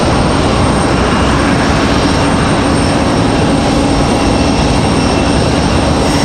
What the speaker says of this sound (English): It's going to be an A319-100, our next arrival here.